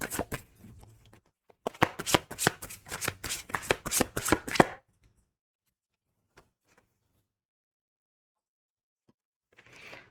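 A deck of oracle cards shuffled by hand, a quick run of crisp riffling flicks lasting a few seconds, then quiet with a few faint taps and a soft rustle near the end.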